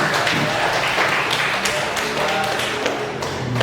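A class claps for a student after an answer in a business statistics lesson, a brisk burst of many hands clapping close by that fills the whole stretch.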